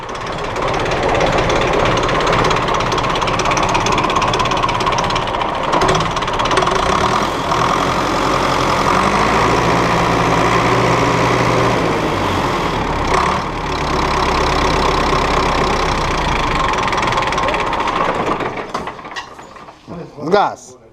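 An Ursus 385 tractor engine, just back from an injector repair, idles loudly and close by with a steady diesel chug and knock, holding an even beat before dropping off at the very end, with voices faintly beneath.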